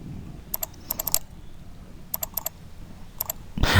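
Bursts of computer keyboard typing, short clustered keystroke runs separated by pauses, close and fairly quiet, with a louder rustle at the end; no talking.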